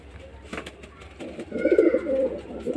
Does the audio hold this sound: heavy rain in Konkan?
no